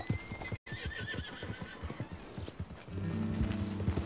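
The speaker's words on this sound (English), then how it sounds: "Pegar aquele cavalo." Horse in Red Dead Redemption 2 gives a short whinny amid rhythmic clip-clop of hooves, close and clear, with a low engine-like hum joining near the end.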